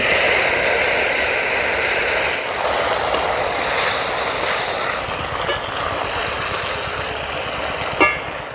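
Onion paste going into hot oil seasoned with nigella seeds and bay leaf for Bengali tel koi, a loud, steady hiss of frying that lasts the whole time, with a few faint clinks and no one speaking.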